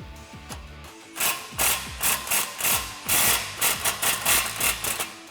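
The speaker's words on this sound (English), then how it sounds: "now we can take our 15mm deep socket and just tighten this down" A ratchet with a 15mm deep socket snugging a bolt on a Borla Stinger S-Type exhaust for a 2015-2018 Ford F150 5.0L: quick bursts of close, crisp pawl clicking in a steady back-and-forth rhythm after a brief quiet start.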